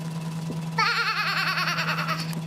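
A young child imitates a sheep's bleat with a wavering, high vocal cry lasting under two seconds, close and clear over a steady low hum.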